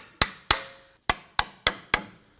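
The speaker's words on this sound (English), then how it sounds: "I'm going to use my hammer." Six sharp metallic hammer taps knock old pads out of a Volvo XC90 front brake caliper at an uneven pace, each one ringing briefly before the next strike.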